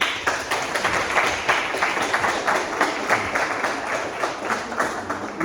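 Conference audience applause, a steady wash of many hands clapping, loud and continuous for several seconds with no voices over it.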